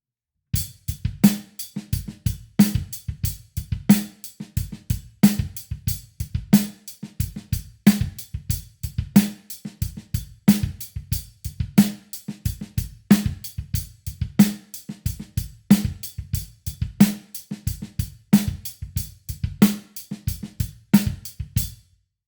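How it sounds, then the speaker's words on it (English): Drum kit groove played with quiet ghost notes on the snare between louder backbeats and kick hits, a steady busy pattern repeating close and clear for about twenty seconds with no talking. "So now let's take this beat, convert it to the ghost note version"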